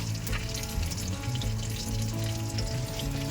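Bata fish frying in hot oil in a home kitchen, a loud, continuous sizzle and crackle close by, with faint tonal background sounds underneath and no talking.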